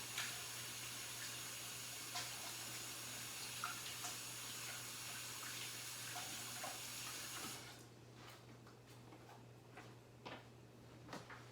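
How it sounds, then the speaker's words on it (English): Water runs steadily from a kitchen tap while hands are washed, a faint even hiss for about eight seconds before the flow is shut off, with light clicks and clatter afterward. "Let me wash my hands off."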